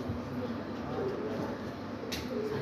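Pigeons coo softly at a pigeon keeper's loft, low throaty calls set within a constant broad outdoor hiss, faint and somewhat masked, with no clear talking.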